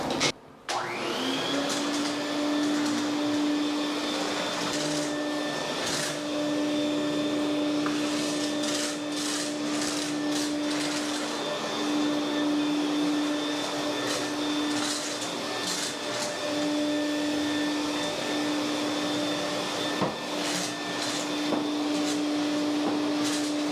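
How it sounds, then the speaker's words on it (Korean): An industrial dust collector vacuum, used for construction dust cleanup in a newly built home, starts up and runs loud and steady for the whole stretch, with a constant motor whine and occasional knocks and clatters over it. "이거는 이제 집진기 분진 청소기인데 장비 쓰는 작업은 이게 마지막입니다"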